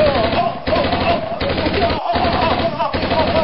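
Rapid bursts of automatic gunfire from shooting robots rattle loudly and close in quick, dense volleys separated by short pauses.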